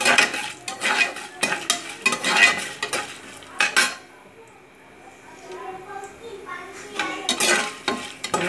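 Chana dal, urad dal and broken red chilies fry in oil, with repeated clattering strokes of a metal spoon stirring in the pan. A quieter stretch of soft sizzle in the middle falls between bursts of stirring.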